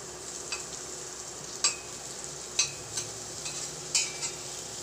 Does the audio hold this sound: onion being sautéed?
yes